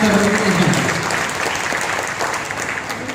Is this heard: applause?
yes